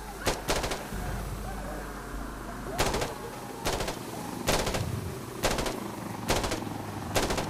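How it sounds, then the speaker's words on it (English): Minigun fire in the video game Insurgency: Sandstorm, sharp repeated bursts of rapid gunfire spaced about a second apart over a rumbling battlefield background, loud and close. "Minigun is here, boys."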